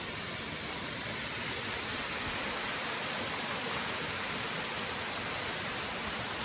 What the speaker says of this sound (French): Qui s'appelle la cascade des Tuffes.